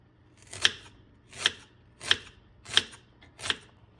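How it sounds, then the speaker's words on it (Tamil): Five crisp knife chops land at an even pace through raw plantain against a board, sharp and close, with quiet pauses between. "ஸோ இப்படி எல்லாத்தையும் கட் பண்ணிக்கிட்டேன்."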